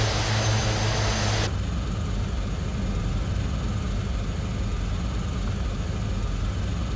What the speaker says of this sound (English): Oh, the plane is really loud.